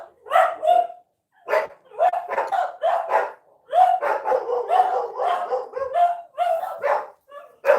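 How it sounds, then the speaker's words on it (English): Several dogs barking indoors during a dog-sitting morning: loud, close, repeated bursts of barks and yips in uneven clusters, with short pauses between volleys. "So you're going to hear a few barking."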